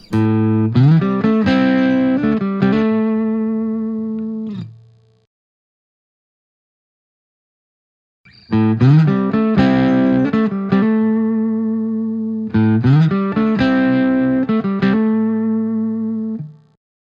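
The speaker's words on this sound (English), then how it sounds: "it's a very nice, beautiful spring reverb" Electric guitar plays two repeated phrases of strummed chords and single notes through a PRS Sonzera 50 amp head, each ringing out with a lingering spring reverb tail, separated by a silent gap.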